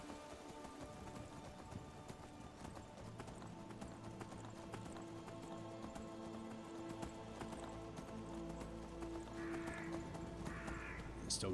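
Horse hooves gallop in the video game Skyrim, a steady rapid clip-clop rhythm running throughout, with a whinny and breathy snorts near the end, under a layer of game music.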